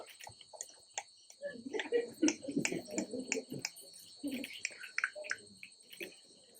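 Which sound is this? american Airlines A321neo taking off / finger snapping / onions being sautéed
finger snapping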